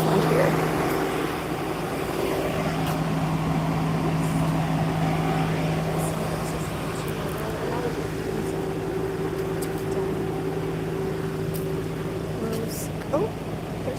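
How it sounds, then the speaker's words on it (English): A loud truck drones close by with a steady low engine hum and a tonal whine that runs for most of the stretch, while someone talks over it. "This truck is going to be loud and noisy"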